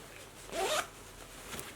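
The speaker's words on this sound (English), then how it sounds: "Now the zipper has been done, so it opens this way," A metal zipper on a handmade A-line dress with a lace yoke slides open in one quick, close rasp, with quiet fabric rustle around it and no talking.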